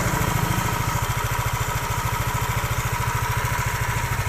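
A steady engine idle after an oil drain and oil treatment, close and loud, with a fast even rhythmic putter running throughout without changes.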